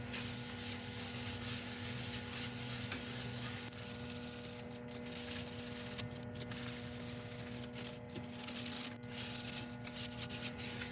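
Shellac sealer is rubbed onto a turned black locust and soapstone resin piece. The result is a soft, continuous rubbing hiss over a steady low hum, with a few brief breaks in the strokes.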